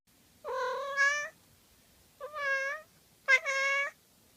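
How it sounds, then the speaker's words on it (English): A cat meows three times in clear, drawn-out calls, close and alone against a quiet background, with short pauses between each cry. "share this video of a cat hugging its owner's arm"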